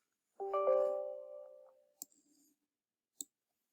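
Mouse clicks on a PC while installing GIMP: a short electronic chime sounds first, then two sharp isolated clicks about a second apart in an otherwise silent room.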